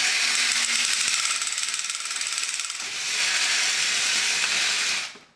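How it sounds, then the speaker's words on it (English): The 1986 Guardian Patrol four-legged toy robot's Roto Matic mechanism whirs and rattles with fast, continuous ratcheting of plastic gears and ratchet wheels, steady and close, with a brief hitch midway before cutting off abruptly. "That high-speed Roto Matic action, that's tough on all the gears."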